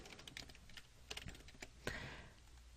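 Quiet, scattered keystrokes on a computer keyboard, a handful of light taps with a slightly sharper key press near the end.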